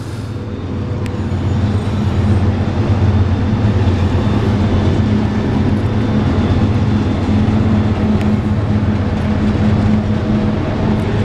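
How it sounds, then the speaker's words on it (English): A long freight train of 100 cars hauling corn and grain rolls past a gas station, giving a loud, steady, continuous rumble and rattle of wheels close by with no break. "we got one of the 100 car trains in front of us now"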